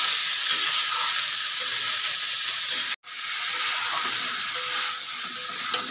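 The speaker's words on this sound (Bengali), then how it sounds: "এইভাবে বেশ অনেকক্ষণ ধরেই কষাতে হবে।" Spice paste for a pabda fish curry sautéing in a wok, a steady, close sizzle and hiss running throughout, broken by one brief silent gap midway, with no talk.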